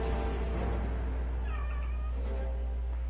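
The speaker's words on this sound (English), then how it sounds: "she's meowing at something" A cat gives a few faint meows at a distance, set against steady background music and low hum, with no talking.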